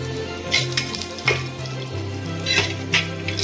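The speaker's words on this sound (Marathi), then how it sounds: "हे बघा आता आपण ड्रायफ्रुट्स टाकतोय तुपात ते पण व्यवस्थित आपल्याला भाजून घ्यायचे आहेत" Dry fruits roast in ghee in a pan, a close, steady sizzle with intermittent scrapes and stirring knocks at irregular intervals.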